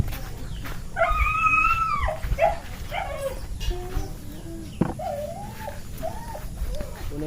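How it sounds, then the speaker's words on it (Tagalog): A hungry pet duck calls noisily, a run of loud, nasal, wavering cries repeated several times over a steady background hum. "Pasensya na mga lodi kung napakaingay yung ating alagang bibi."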